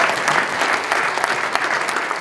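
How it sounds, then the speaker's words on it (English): Steady applause from an audience at a university hackathon's final demos fills the whole stretch, dense and continuous with no voices over it. "Let's give a huge round of applause for people who took the initiative to take their first time hacking."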